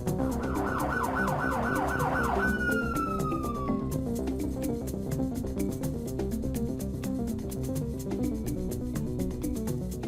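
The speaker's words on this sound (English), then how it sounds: "what's that sound of sirens in the distance?" In the Batman Unlimited: Gotham City's Most Wanted game, a wailing police siren rises and falls rapidly for a few seconds, then slides down and fades. A steady musical background with light ticking continues afterward.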